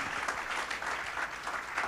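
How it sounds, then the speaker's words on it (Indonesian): A church congregation claps during a worship service, a short, moderately loud burst of dense applause. "Berikan tepuk tanganmu, haleluya."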